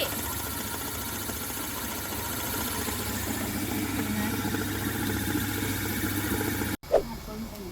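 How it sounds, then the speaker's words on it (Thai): An electric stone mill grinds rice with a steady droning motor hum and vibration, running continuously before cutting off abruptly, followed by a brief thump. "ก็ใช้ไฟฟ้าแล้วก็ เครื่องโม่เอานะ"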